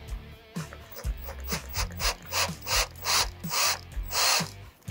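A tap is worked by power into a rear axle on a 1966 GMC, biting in short rasping, grinding bursts that repeat in a steady rhythm of about ten strokes, close and clear with no talk.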